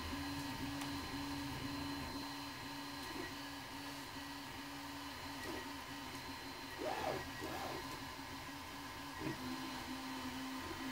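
A FlashForge 3D printer runs steadily at a moderate level, its motors holding a sustained mechanical hum with a tonal whine and a few brief stepping shifts throughout.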